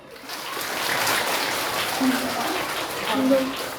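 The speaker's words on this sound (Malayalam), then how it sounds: "ഒന്നുകൂടെ കൈയടിക്ക്" A group of schoolchildren applauds at a school programme, a broad, steady wash of clapping from many small hands, moderately loud and continuous, with a faint voice briefly audible near the end.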